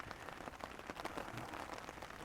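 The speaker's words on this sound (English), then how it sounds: "It's still speckling, but not pouring anymore." Light rain speckling down at a car campsite after a downpour: faint, soft patter of scattered drops with small irregular ticks, quiet and continuous, no voices.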